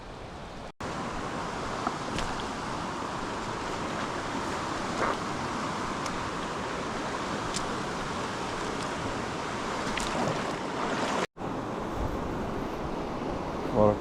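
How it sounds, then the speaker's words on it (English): A river being waded across on foot in the New Zealand wilderness, a continuous rushing water wash with faint splashes, steady and fairly near, with wind noise and a couple of sharp handling knocks. "So I'm going to cross the river here now"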